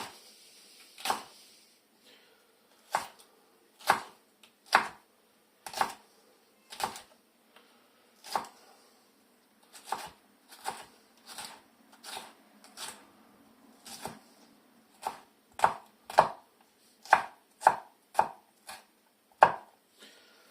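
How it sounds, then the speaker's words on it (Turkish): A knife chops steadily through two large peppers on a cutting board, with many crisp, close taps. Short pauses break up the rhythm, and there is no talking. "iki adet biberimizi doğradık."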